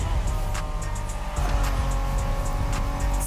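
A Honda NSX races in a driving video game, its engine revving hard with shifting pitch while the tires squeal through a skid, loud and continuous across the short stretch.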